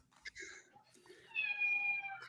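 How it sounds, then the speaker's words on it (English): A pet cat meows in a room, a drawn-out, fairly loud call rising near the end of the moment, with faint voices and movement before it. "We have a new cat, everybody."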